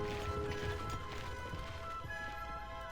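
Horse archers gallop across a battlefield in the strategy game Warcraft Total War, their soft, rapid hoofbeats running under sustained game music.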